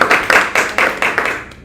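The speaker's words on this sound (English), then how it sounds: "Use a round of applause," A short burst of rhythmic clapping from a small club audience for a speaker, about eight fairly close, even claps over under two seconds.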